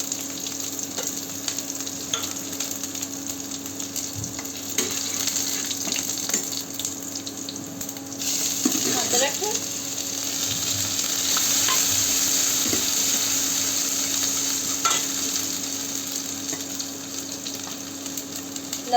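Cumin, garlic and ginger fry in hot oil in a home kitchen, making a soft, steady sizzle with occasional crackles and a brief stir partway through, with no talking.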